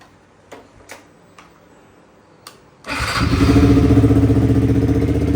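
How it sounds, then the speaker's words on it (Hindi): A motorcycle cold start: a few sharp ticks and clicks, then the engine fires and settles into a loud, steady idle close by. "बाइक लेके चलते हैं हम, बाइक की कर लेते हैं कोल्ड स्टार्ट"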